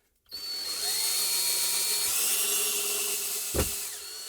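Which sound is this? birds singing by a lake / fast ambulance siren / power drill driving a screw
power drill driving a screw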